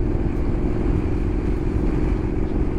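A motorcycle rides over a large pothole on a rough road, its engine giving a steady, close rumble with some clatter throughout and no talking.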